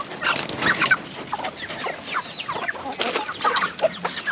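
Broiler chickens on a small farm cluck and squawk in a busy overlapping chorus, close and fairly loud, with no one talking.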